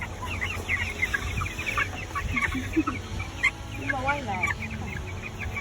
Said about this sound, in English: What are you doing with your meat chicks? I am putting them in the brooder.